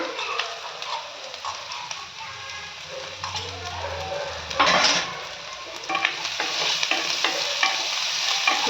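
Onions sauté in a pan with salt, a steady close sizzle broken by scraping stirs of a spatula, growing busier and louder toward the end.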